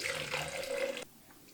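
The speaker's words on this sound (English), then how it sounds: "I'm going to pour it back into this container." Film developer liquid pours back into a container during home film processing, a steady splashing gush for about a second that cuts off abruptly, leaving quiet room tone.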